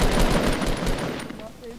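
Rapid automatic gunfire in the video game Fortnite rattles out in a quick burst, loud at first and then tapering off, with a voice talking over it.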